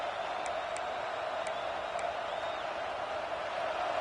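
A stadium crowd at a college football game between Oklahoma and Michigan roars steadily as the defense tries for a red-zone stop, a constant distant wash of noise with a few faint whistles on top.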